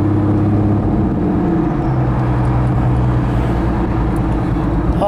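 A supercharged 2001 Plymouth Prowler drives along with a steady, loud engine drone and layered low harmonics, holding a constant tone for several seconds with no talking.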